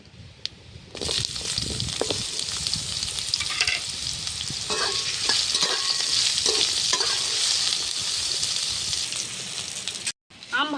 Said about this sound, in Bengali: এবার কেটে রাখা আমটা দিয়ে দিচ্ছি